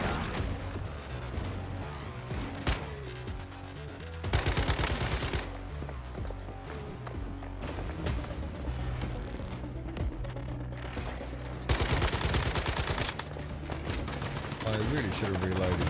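Video game gunfire crackles in dense, loud bursts over a busy soundtrack, with two heavier volleys standing out partway through and near the end; a voice may be faintly present underneath.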